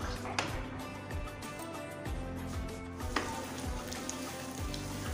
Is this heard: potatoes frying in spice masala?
yes